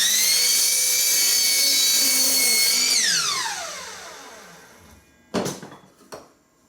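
A power saw whines at full speed while cutting a wood board for a birdhouse, then its pitch sweeps steadily downward as the blade spins to a stop, followed by two short knocks of the board being handled.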